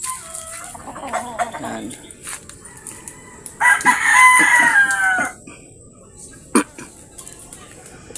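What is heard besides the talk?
hens clucking and rooster crowing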